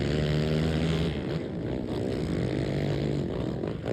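Quad ATVs racing around a muddy track at a season-opener event in Brooksville, Florida, their engines droning and revving together in a steady, moderately distant roar that rises and falls throughout.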